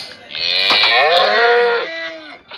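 Cow mooing in the Minecraft video game, one long drawn-out blocky moo lasting about two seconds, loud and alone with no talk.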